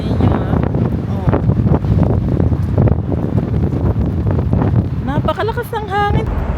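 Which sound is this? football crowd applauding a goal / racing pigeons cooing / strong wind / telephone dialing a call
strong wind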